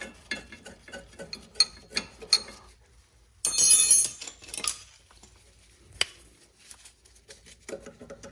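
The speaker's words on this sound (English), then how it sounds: "we'll go ahead and use an open-ended wrench here just to make things a little faster" An open-ended wrench works a loose brake line flare nut on a Saturn Vue rear drum brake, giving sparse, close metallic clicks and clinks with one short scraping burst, quiet and without speech.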